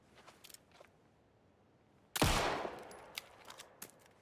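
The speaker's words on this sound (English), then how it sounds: "the gunshots are pretty much the same loudness as my speech" A single loud gunshot in the video game Alan Wake 2 cracks out and decays, surrounded by faint scattered clicks and distant pops.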